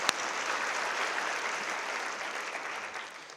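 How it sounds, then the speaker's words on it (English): Audience applause during a State of the City address, a steady wash of many hands clapping that holds for several seconds after one sharp initial clap, moderately loud and fading slightly at the end. "Let's give another round of applause."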